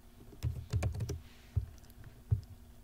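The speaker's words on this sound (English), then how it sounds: "I'm going to type October." Someone types on a computer keyboard while working in Excel. A quick cluster of keystrokes comes first, then two single, separate key presses follow after short pauses, close and clear in a quiet room.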